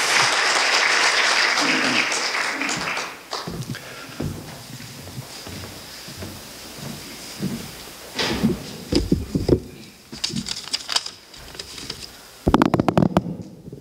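Audience applause welcoming a speaker at the opening ceremony of a Korea University labour graduate school and labour research institute symposium, a dense burst of clapping for about three seconds that thins into scattered claps and a few louder final bursts.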